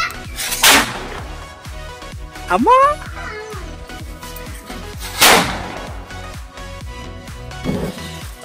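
Paper sound crackers from Alagu and Renuga Devi Pyro Park go off as two sharp, loud bangs several seconds apart, over people talking and a rising whistling tone.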